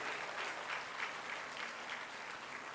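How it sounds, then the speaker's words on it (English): Students at a B.Tech orientation day at Anurag University applaud together. The clapping is dense and sustained, with a steady crowd texture and a faint pulsing rhythm, and no voices are heard over it. "Can we all clap for ourselves, all the students, for starting your exciting journey?"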